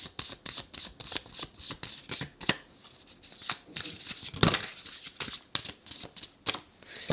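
Tarot cards shuffled continuously in a fast, rhythmic patter of soft slaps and riffles, close and steady, with a slightly sharper clatter midway as a couple of cards drop out.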